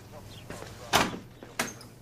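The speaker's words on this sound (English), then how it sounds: "And close the door." An office door pulled shut, giving a soft thud and then a second sharper knock as it closes, fairly faint and close by.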